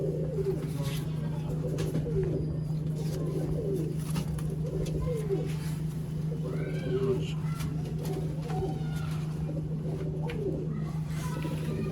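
A pure Sialkoti breeder pair of pigeons coos in repeated soft, rolling phrases over a steady low mechanical hum, fairly close and continuous.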